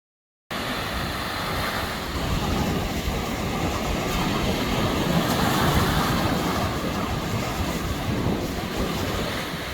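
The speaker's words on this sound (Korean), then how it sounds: "시원한 파도 소리 들리세요?" Continuous roar of ocean surf breaking and washing along Sacheonjin Beach on Korea's east coast, loud and steady, with wind buffeting the microphone.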